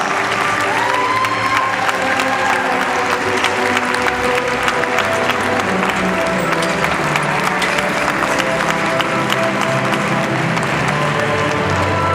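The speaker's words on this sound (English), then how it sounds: "Would you give our veterans once again a salute and a nice round of applause?" A crowd at a veterans' recognition event keeps up steady, dense applause for the veterans, continuous clapping with some cheering and scattered voices mixed in throughout.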